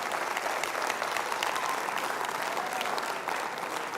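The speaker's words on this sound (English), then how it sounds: "give a round of applause to yourselves" A university lecture audience claps in steady, dense applause that carries on evenly throughout without pause, with no voices over it.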